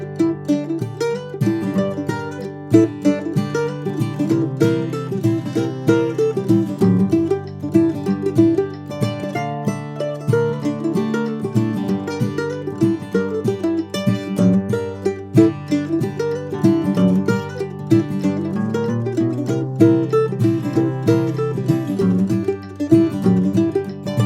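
A mandolin plays a banjo tune, with bright, quick picked notes and repeating melodic phrases in a steady, lively rhythm, played solo and close with no talking.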